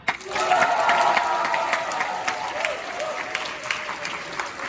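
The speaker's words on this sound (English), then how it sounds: "please clap and cheer now" A theatre audience claps and cheers to vote for an actress in a casting contest for Earnest, with a sudden burst of applause, raised voices and whoops over it, then the clapping thins out.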